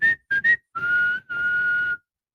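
A person whistles while watching a New York Yankees baseball game: three short clear notes, then two longer sustained tones, loud and close with no talking.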